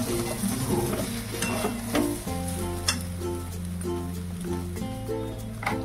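Cashews and raisins being stirred into rice in a hot pan, soft scraping strokes over a sizzle, partly masked by a steady background music bed.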